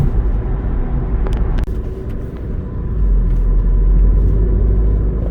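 A 2019 Mini Cooper convertible with a 3-cylinder turbo cruises on the interstate, heard as a steady loud road and engine rumble from inside, with a couple of brief clicks early on and a swell in volume toward the end.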